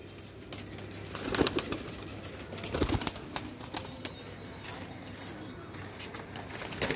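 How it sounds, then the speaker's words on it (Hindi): Young golden pigeons are kept in a loft. Soft cooing and occasional wing rustles come through under a steady background hum, with faint scattered noises and no clear speech. "ये देखें सुनहरी गोल्डन जो बच्चे कबूतर है"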